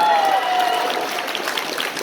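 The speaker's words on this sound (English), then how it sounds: "round of applause" Audience applause at a fan convention panel in Calgary, a steady, dense round of clapping from a crowd that holds evenly for a couple of seconds.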